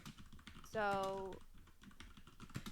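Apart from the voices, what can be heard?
typing on a computer keyboard in another room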